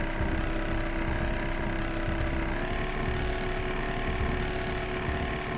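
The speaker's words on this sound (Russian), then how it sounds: "Даже звук лодки уже есть тут." Steady droning motorboat engine from the beta version of Tomb Raider III on PS1, in the Antarctica level, running continuously and close with a whooshing wash, no voices.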